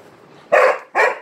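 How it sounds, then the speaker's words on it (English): Two loud, close dog barks in quick succession, following a low murmur. "stop barking"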